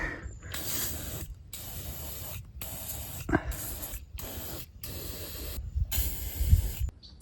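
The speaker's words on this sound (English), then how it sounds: "I'm going to squirt everything with a bit of WD." WD-40 hisses from a can onto gate hinges at a French château, repeated close spray bursts separated by brief pauses, with slight clinks from the metal.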